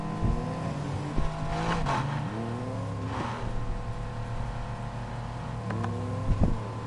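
An Aston Martin DB11 engine in the racing game Need for Speed Heat hums steadily, with pitch swells as it revs and brief tire squeal, heard up close under a busy mix of other car noise.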